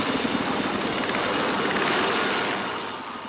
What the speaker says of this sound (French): il y a l'hélico qui nous récupère, on va se faire treuiller dans la voie